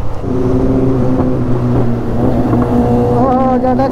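Superbikes tear past on a road near a rider on a Hero Xtreme 125R. A loud, steady engine roar holds throughout, and a rising whine near the end as another bike revs by.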